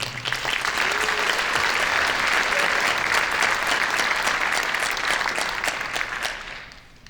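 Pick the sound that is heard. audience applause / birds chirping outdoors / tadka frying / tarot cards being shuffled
audience applause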